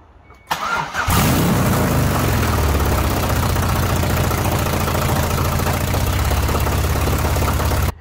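LS V8 engine swapped into a Ford Mustang S197, on a temporary hookup, cranks and fires then settles into a loud, steady, lumpy idle close by.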